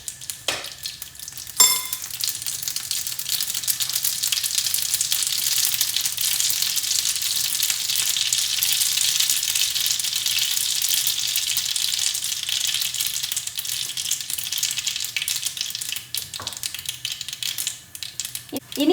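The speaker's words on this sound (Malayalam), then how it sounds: "ചൂടായി കഴിയുമ്പോൾ അതിനകത്തേക്ക് ആവശ്യത്തിന് കടുക് ചേർത്ത് പൊട്ടിക്കുക" Mustard seeds sputter in hot oil while a Malayalam-style mango pickle is made, giving a steady, fairly loud crackling sizzle with scattered sharp pops across the whole stretch, and no voices.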